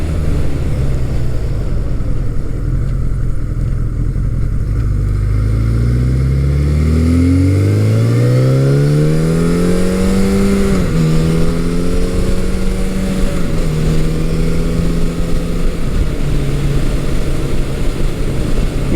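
A 1983 Suzuki GS1100E motorcycle on a test ride, its engine loud and close, climbing through several rising revs and gear changes before settling into a steady, throbbing cruise under constant wind roar.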